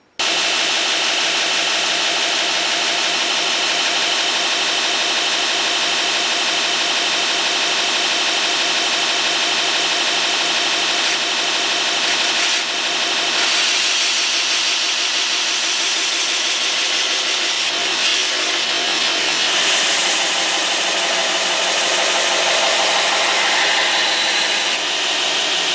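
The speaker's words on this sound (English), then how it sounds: "put a new 60 grit ceramic red label abrasives belt, as you can see, and new belt on, and begin my flat grind" Belt grinder with a new 60 grit red ceramic belt flat grinding a knife blade, a loud continuous abrasive roar that barely varies over the whole stretch.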